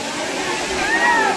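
Chingara Pagaar waterfall in Gariyaband district, a steady broadband rush of falling water close by with people speaking and calling over it throughout.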